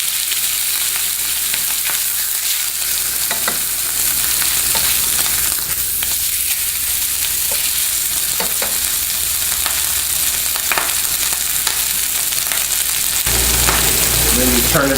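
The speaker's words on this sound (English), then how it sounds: "you're going to stir it" Pork chops sizzling in olive oil in a pan, a constant loud frying hiss with intermittent stirring clatter that continues for the whole stretch, with no voice over it.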